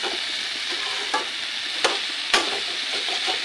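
Potato and capsicum dry sabzi cooks in a slightly smoking kadai, making a constant loud sizzle with occasional brief scraping stirs. No voices are heard.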